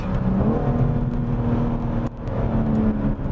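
A 2022 BMW M4 Competition xDrive engine accelerates hard from inside the cabin, a loud sustained roar that rises in pitch, briefly dips around a gear change, then climbs again.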